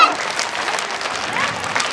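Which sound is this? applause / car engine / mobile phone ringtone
applause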